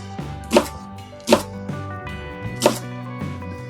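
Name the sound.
knife chopping leek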